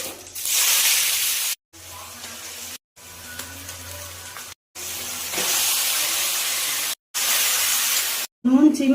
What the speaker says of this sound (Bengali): আমরা সাদা তেল ব্যবহার করলাম, একটু ফোড়ন দিয়ে দিলাম